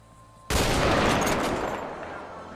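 A heavy sniper rifle fires once in GTA V, a sudden loud boom followed by a long, dense rolling echo that slowly fades and stays loud to the end.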